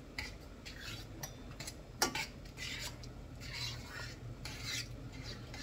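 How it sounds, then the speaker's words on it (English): Noodles being stirred into a pan of Alfredo sauce, a steady scraping, swishing stir with soft clinks of utensil on the pan and one sharper knock, close and alone. "Dump the noodles in there. And then, mix it together."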